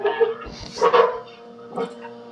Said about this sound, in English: My dog barked.